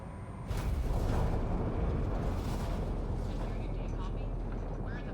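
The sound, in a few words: spaceship decelerating toward planet in video game Mass Effect Andromeda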